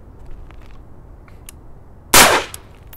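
A rifle fitted with an over-barrel suppressor fires one loud, sharp shot after a stretch of quiet background, with a short, fading tail.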